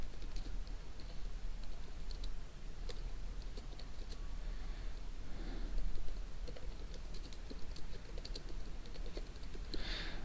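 Quick bursts of keystrokes on a computer keyboard as a sentence is typed, irregular clicks continuing across the stretch at a steady close distance with no voices.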